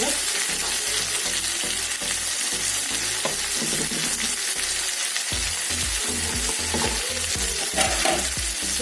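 Chicken pieces stir-fried in a pan for a chicken and mustard greens dish: loud, close sizzling with constant rhythmic scraping and clattering of a spatula through the whole stretch.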